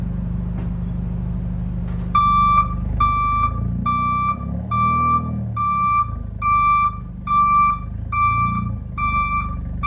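An aftermarket reversing beeper fitted to a Mazda 6 gives about eight evenly spaced, high electronic beeps, loud and close, over a low idling car hum after a quiet opening.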